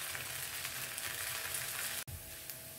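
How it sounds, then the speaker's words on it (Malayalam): Shallots frying in oil on top of an uttapam on a griddle, a continuous close crackling sizzle with no talk, briefly cut off by a sharp dropout near the end. "ഇനിയിപ്പോൾ ആ ചുവന്നുള്ളിയൊക്കെ ഒന്ന് നന്നായിട്ട് മൂത്ത് വരട്ടെ."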